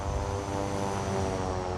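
Twin turboprop engines of a 408 SkyCourier in the MSFS 2024 flight simulator drone steadily with a dense, even hum and layered tonal whine, constant and close, no voices.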